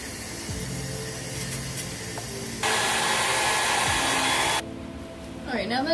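A hair dryer blows loudly on freshly dyed, split-dyed blonde and black hair, a close, steady airy roar that shifts to a higher, stronger setting midway, then drops back before switching off.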